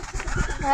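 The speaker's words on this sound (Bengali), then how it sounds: "কবুতর" A brief, soft pigeon coo, low and rounded, heard close by with faint background noise.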